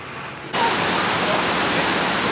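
A waterfall in the Great Smoky Mountains bursts in as a steady, loud broadband rush of falling water, continuous and close after a brief quieter moment.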